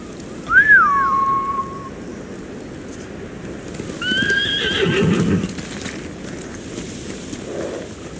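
In the Ghost of Tsushima video game, a horse gives a sharp whinny near the start and another neigh around midway, with hooves clip-clopping and wind-like ambience filling the space between the calls.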